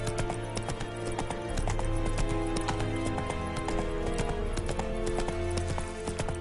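Roach, the horse in The Witcher 3: Wild Hunt on PS5, galloping with a rapid rhythmic clip-clop of hooves over layered game music, close and fairly loud throughout.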